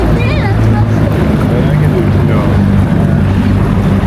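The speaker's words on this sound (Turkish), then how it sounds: "Teknemizi suya saldık." A fishing boat on the sea at Kuşadası gives off a constant loud engine and water rush with heavy wind buffeting the microphone, steady throughout with no clear pauses.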